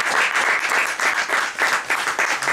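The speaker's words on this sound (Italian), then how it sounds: "però voglio fare un applauso" Dense, steady applause from a studio audience at an Italian televised award ceremony, a continuous loud wash of many clapping hands with no voices over it.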